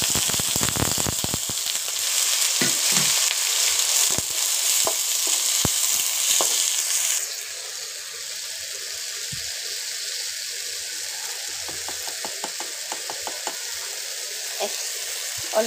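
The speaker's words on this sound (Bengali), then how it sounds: "একটু লালচে করে ভেজে নিয়েছি। এখন দিয়ে দিব আলু।" Bitter gourd and potatoes fry in a pan with a loud, steady sizzle for the first half, then the hiss thins out while scraping stirs and clicks keep going close by.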